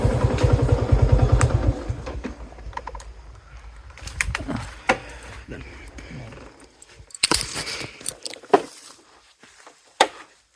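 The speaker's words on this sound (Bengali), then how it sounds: "3 মিনিট লাগলো মোটরসাইকেল নিয়ে আসতে" A motorcycle ridden out toward farmland, its engine loud and close at first, then fading under a voice speaking, with birds cooing and scattered clatter as it quietens.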